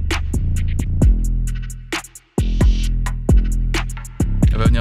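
Punchy drum hits repeat in a rhythmic beat, with snare and counter-snare strikes ringing out and trailing off in reverb over a deep bass line in a music production mix.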